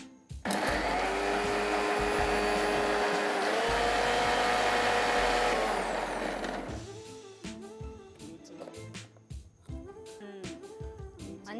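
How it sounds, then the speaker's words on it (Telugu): An electric mixer grinder whirs loudly, blending garam masala spices, onions and garlic into paste, a continuous high-pitched motor roar that shifts pitch as the load changes, then cuts off into a few clattering knocks and short motor bursts. "వీటన్నిటిని కలిపి మనం ఏం చేయాలి మిక్సీ పట్టుకోవాలి"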